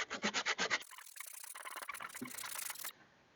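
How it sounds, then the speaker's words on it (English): Hand sanding filler on a damaged car bumper cover, a run of rhythmic rasping strokes followed by a steadier, denser scrubbing, close and fairly loud with no voices. "I went ahead and sanded everything down as smooth as I can get it."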